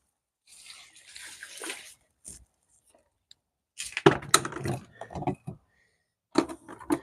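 Fish-tank water is poured onto potted plants in a few separate splashing bursts, each a short gush and trickle with quiet gaps between, close and fairly loud.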